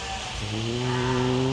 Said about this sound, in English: We can see a sheep being shaved over here.